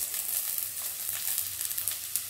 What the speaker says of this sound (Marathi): 1 कांदा भाजून घेऊया आणि एक आपण फोडणी देऊ